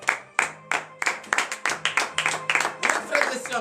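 A church congregation at morning prayer claps in a fast, regular rhythm with sharp individual hand strikes, voices calling out in acclamation between and under the claps.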